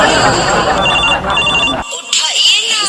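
A telephone rings loudly and close with a continuous electronic trill under background chatter and music, then cuts off abruptly before a brief sharper tone.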